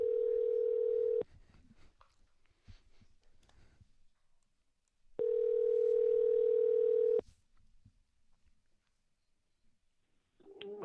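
A telephone dial tone sounds loudly in two steady stretches of a few seconds each while calls are dialed. Faint clicks and handling noises fill the quiet gaps between them.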